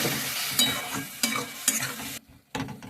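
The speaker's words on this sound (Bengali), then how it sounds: "জল দিয়ে ভালো করে মশলাটা কষিয়ে নেব" Ground spices—chilli, cumin, coriander, turmeric, salt—with green chilli and water sizzle in a pan while a spatula stirs and scrapes in uneven strokes, close and steady, with a brief near-silent pause before the stirring resumes.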